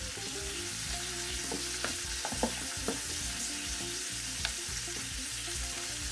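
Omena fish fry in oil over low-medium heat, a continuous close sizzle with scattered small pops and crackles, steady throughout with no voices.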